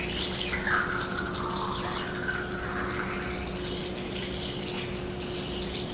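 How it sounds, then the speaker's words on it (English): Cinestill Monobath developer pours steadily into a black-and-white film developing tank, a continuous gurgling stream with a rising tone as it fills, with a faint steady hum behind it. "I'm gonna pour the chemistry in."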